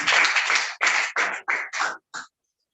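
Short bursts of applause at the COYEC 2023 conference, several quick clapping rounds in succession that shorten and fade out, with no talk over them.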